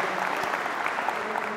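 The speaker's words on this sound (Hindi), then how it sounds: "जोरदार ताली हो जाए फिर से" An audience at a comedy show breaks into a steady burst of applause, dense and continuous clapping throughout without anyone speaking.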